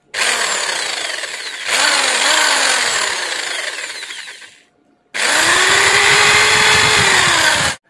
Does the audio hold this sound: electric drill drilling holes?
yes